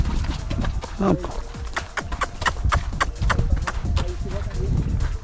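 Horse hooves clip-clop in a quick, uneven run of sharp knocks on hard ground, close by, with people talking over and between the steps.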